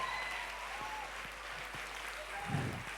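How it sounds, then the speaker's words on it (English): A concert audience applauds young handbell ringers from Singapore, soft and fairly distant clapping that stays steady throughout, with faint voices and a brief low thump near the end. "Another round of applause, please, for the young future ringers of Singapore."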